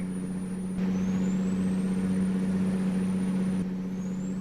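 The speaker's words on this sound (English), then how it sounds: "I've been overtaken by another lorry." A lorry overtakes on the Dalton and Elliot Highway in American Truck Simulator, its steady diesel engine drone swelling briefly as it draws alongside, with a constant low hum and no voices.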